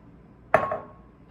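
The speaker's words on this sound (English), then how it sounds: "Another final shake and a final shake, and this will help settle the mixture" A baking pan holding apple crisp mixture is shaken once, giving a single short metallic rattle and clink that decays within half a second in an otherwise quiet room.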